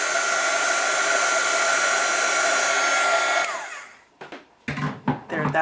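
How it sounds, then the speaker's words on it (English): A craft heat tool blows a loud, steady whooshing roar while melting embossing powder on a card, then cuts off and is followed by a few short handling knocks and rustles. "I just love to watch the embossing powder melt and reveal the beauty that it leaves behind."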